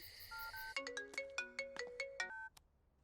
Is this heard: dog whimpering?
no